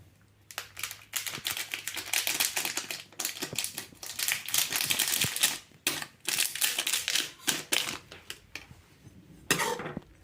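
Cooked Korean noodles are stirred with kimchi seasoning powder, giving quick bursts of clattering, scraping utensil strokes against the pot with brief pauses between them, close and moderately loud.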